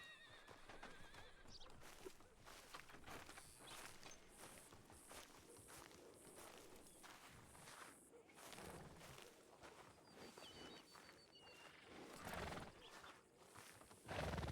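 Horses in a roleplay game whinny and neigh repeatedly over a bed of clip-clopping hooves and footsteps, with faint birdsong in the background and a louder burst at the very end.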